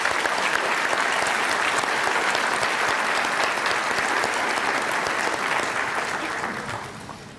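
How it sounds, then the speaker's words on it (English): A large crowd at a university Ivy Day ceremony applauds steadily, a dense, even roar of clapping that holds throughout and tapers off at the end. "Please join me in a round of applause for her talents and time."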